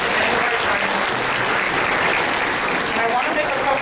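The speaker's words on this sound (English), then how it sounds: "Can I give all our speakers a round of applause?" An audience claps for the speakers of a discussion panel on protecting kuleana lands, a dense, steady burst of applause close by that fills the whole moment.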